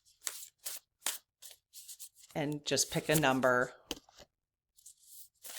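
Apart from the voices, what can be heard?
shuffling cards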